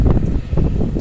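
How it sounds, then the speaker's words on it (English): Strong outdoor wind buffets the microphone in loud, low rumbling gusts through the brief moment. "That's a little windy"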